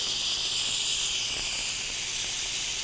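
An Instant Pot pressure cooker vents steam after cooking spicy pickled fruit, giving a loud, steady, unbroken hiss that holds at an even level throughout, with no voices.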